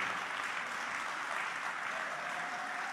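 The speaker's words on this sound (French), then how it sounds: "Je pense qu'on peut les applaudir d'ailleurs." An audience applauds the sound, lighting, video and inter-island link technical team at an island multiplex event, with steady, dense clapping throughout, heard alone at moderate distance.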